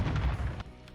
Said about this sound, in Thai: โอ้เสียงระเบิดใหญ่มากครับ